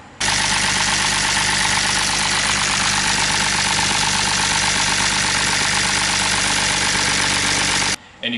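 A BMW M54 engine running with a suspected loose oil pump nut, idling loud and close with a constant heavy drone and a rapid rhythmic knock throughout, cutting off abruptly near the end.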